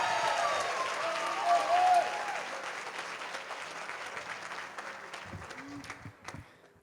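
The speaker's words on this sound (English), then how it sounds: "Let's give all of our finalists a round of applause." An audience at an awards dinner applauds the finalists with sustained clapping that starts strong and slowly tapers off, accompanied by a few scattered voices.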